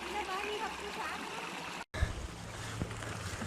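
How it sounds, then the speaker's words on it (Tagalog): Broadband rushing water flows steadily, like a stream nearby, briefly cutting out midway, with a low thump and soft talk-like sounds beneath. "Ganda ng batis nila, oh."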